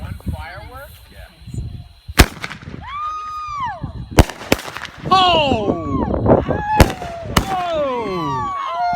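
Fourth of July fireworks near Lake Austin launch with whistling streaks and burst in several loud sharp bangs, then crackle and fizz in dense showers, with excited voices and shouts over the display.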